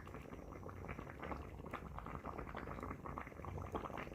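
Okra stew with smoked fish and cassava bubbling steadily in a pot over a village fire, a constant close simmering burble of dense small pops with no voices.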